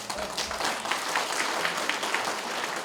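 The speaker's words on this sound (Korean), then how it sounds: "박수 한번 쳐야 돼요." Audience at a general assembly clapping for students who raised money through volunteer work. The applause is steady and moderately loud across the whole stretch, with dense overlapping claps.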